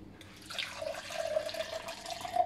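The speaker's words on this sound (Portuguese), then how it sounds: "Vou colocar 100 ml de água." Water pours steadily into a container as 100 ml is measured out for a Christmas rosette fritter batter, a continuous close trickling splash with no talking.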